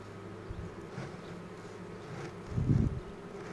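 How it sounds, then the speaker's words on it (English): Honey bees buzz at a hive during a swarm check, a soft continuous drone close to the microphone, swelling louder near the end as bees fly past. "we still got plenty of bees up here"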